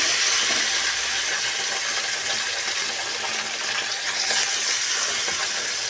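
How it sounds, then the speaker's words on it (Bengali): Small fresh bata fish fry in hot oil with a steady, close, dense sizzle that holds evenly throughout, with no talking. "মাছটাকে খুব ভালো করে আমি ভেজে নেব।"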